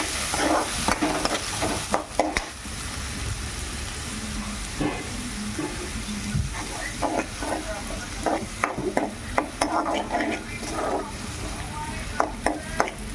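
Onions fry and sizzle in a pan for Karnataka-style poha, with a steady low crackle broken by repeated scraping knocks of stirring at an irregular rhythm, heard up close.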